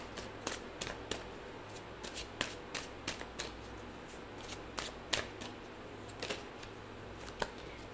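Tarot cards being shuffled by hand, a steady run of crisp riffling flicks and slaps in close succession, quiet and close up with a faint low hum underneath and no talking.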